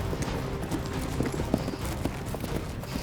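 Horse hooves loping in a circle during a cowboy ranch competition, with a steady clip-clop rhythm of soft, moderately close footfalls over dirt amid faint arena background noise.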